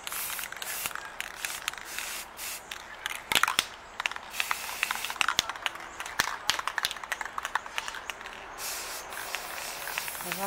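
Spray paint hissing onto square plates during a DIY wall-art project, repeated short bursts and longer sprays with rattly clicks from the can, close by, with no talk.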